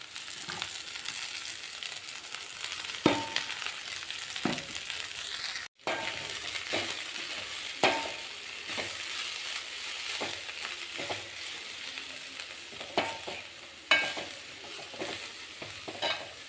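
Chopped radish greens sizzle in a hot pan while a spoon stirs and scrapes, with occasional clinks against the pan throughout, no talking.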